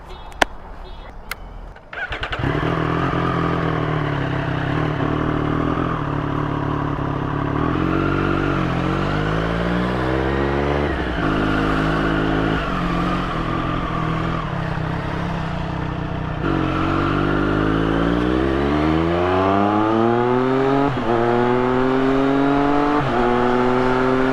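Triumph Street Triple 765 RS motorcycle, a 2024 model with a Racefit exhaust, riding on a road, its engine starting up and then droning steadily with rising and falling revs through the gears, loud and close throughout.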